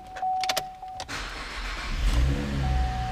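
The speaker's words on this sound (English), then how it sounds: "Fires right up. Nice sounding exhaust." A used Chevrolet Camaro with a manual transmission fires up inside the car, a short starter whir and clicks giving way to a steady, low exhaust rumble at close range, with a tone chiming in the background.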